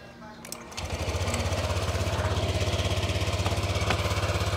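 Honda Click 125/150 scooter engine cranks and fires after an engine wash, settling into a steady close idle with a rapid regular putter.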